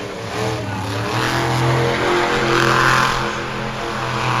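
A monster truck engine crawling over the side of a ramp, a loud sustained mid-pitched roar with slow swells in intensity, close and steady throughout without talk.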